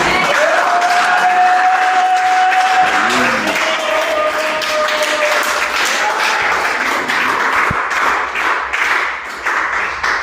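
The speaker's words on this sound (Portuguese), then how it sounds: "Coloque-se de pé e aplauda ao Senhor." A church congregation applauding steadily throughout, dense continuous clapping from a large crowd indoors, with voices and a sustained tone rising faintly underneath.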